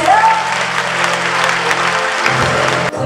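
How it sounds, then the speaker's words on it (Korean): Audience applause at a Korean outdoor song concert in Miryang, a sustained dense wash of clapping throughout, with a low musical hum underneath that shifts near the end. "박수 주세요."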